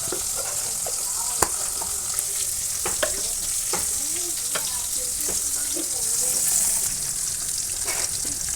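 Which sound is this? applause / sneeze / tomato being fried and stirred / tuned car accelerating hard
tomato being fried and stirred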